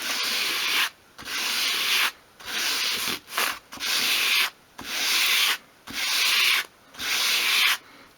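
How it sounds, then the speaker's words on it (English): A small wooden edge for a 1/12th scale dolls house cupboard is swept at an angle across sandpaper in one direction, making close, even rasping strokes, about eight of them separated by short pauses, with no speech. "go across the sandpaper in one direction and just bevel that off"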